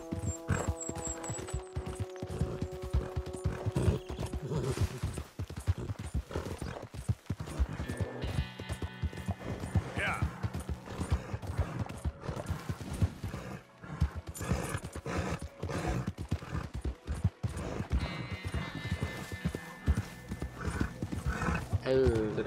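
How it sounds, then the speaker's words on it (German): A horse in the Red Dead Redemption 2 video game, with steady clip-clopping hooves and occasional whinnies running throughout, while voices talk over the game sound. "Das Pferd, das macht Geräusch."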